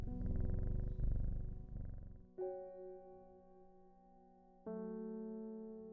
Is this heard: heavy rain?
no